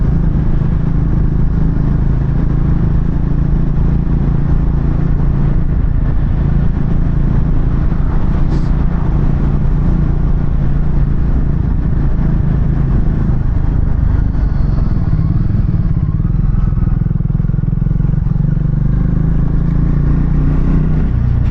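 A Triumph Speed 400 motorcycle engine drones steadily and loudly as it rides along a road, with rattling and rumble from a rough surface throughout.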